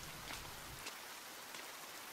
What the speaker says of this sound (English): It's raining heavily.